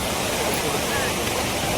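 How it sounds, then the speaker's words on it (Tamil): Silver Falls waterfall in Kodaikanal roars as a loud, dense, unbroken wash of falling water that fills the whole moment, with no clear voices over it. "சில்வர் ஃபால்ஸுக்கு வந்தாச்சு"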